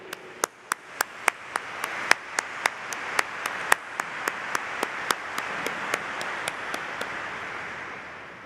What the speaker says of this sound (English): Let's give a round of applause for these educators behind me.